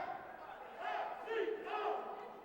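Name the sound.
cheerleaders chanting in basketball crowd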